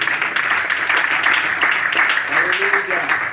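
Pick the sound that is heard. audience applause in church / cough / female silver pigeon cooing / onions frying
audience applause in church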